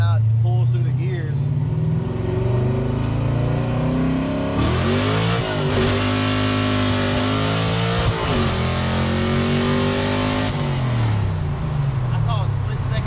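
A car engine revs hard and pulls up through the gears, pitch climbing, dropping at each shift and climbing again, loud and close throughout with voices talking over it.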